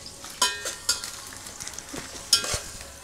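Green chillies and onion frying in hot oil in a home kitchen, a soft continuous sizzle with several sharper stirring scrapes and clinks of a spoon against the pan.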